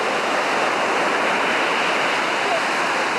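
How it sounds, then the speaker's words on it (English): Ocean waves roll in on a beach in a steady, loud, broadband roar of surf, continuous with no distinct breaks. "And the waves are coming in."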